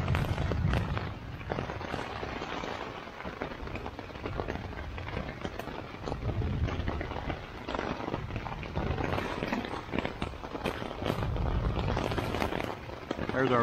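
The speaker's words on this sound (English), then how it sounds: "Looks like the water's beating off the rain fly pretty good." Heavy rain drums on the rain fly of a Sierra Designs Full Moon 2 tent during a thunderstorm, a dense continuous patter heard from inside with recurring low rumbling surges.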